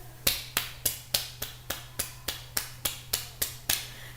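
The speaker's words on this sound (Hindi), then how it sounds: "सुनिधि के लिए तालियां हो जाए" A single person claps for a student in an online economics class, about thirteen crisp, evenly spaced claps close to the microphone over a faint steady hum, with no talking.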